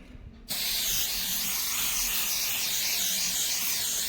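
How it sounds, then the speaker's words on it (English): Penetrant-testing cleaner is sprayed from an aerosol can onto a metal surface, starting abruptly into a loud, close, continuous hiss that lasts about four seconds. "then we will apply the cleaner thoroughly into the surface"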